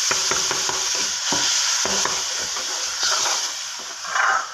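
Masala fried in oil for potato kofta curry hisses steadily in a pan as hot water goes in, with rhythmic scraping stirs cutting through the continuous loud sizzle.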